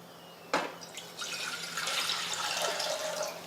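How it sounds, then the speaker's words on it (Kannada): Water pours into a pressure cooker in a home kitchen, a soft splash at the start followed by a steady trickling, filling stream, close and fairly quiet. "ಈಗ ಇದಕ್ಕೆ ನಾನು ಸ್ವಲ್ಪ ನೀರು ಹಾಕೋತೀನಿ ರೀ"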